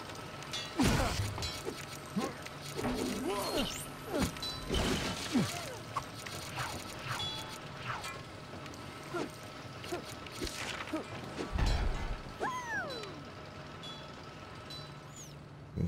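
In The Lego Movie video game, a wrench repairs a busted tube with a run of metallic clanks, ratcheting clicks and sharp whacks spread irregularly, plus a few chiming tones, all at low level.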